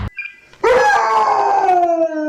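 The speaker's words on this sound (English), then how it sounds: "you can hear the dogs, they all start howling" A dog lets out a loud, sustained howl that starts abruptly after a brief sound and slowly falls in pitch. It is close and heard alone with no talking, set in a van-life stop in southern Turkey.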